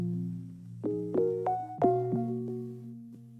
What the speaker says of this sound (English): this is the chord progression I came up with